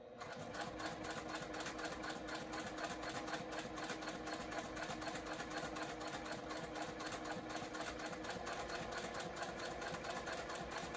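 A sewing machine runs at a steady, moderate pace with a fine, regular stitching rhythm and a constant motor hum, close and uninterrupted, with no talking.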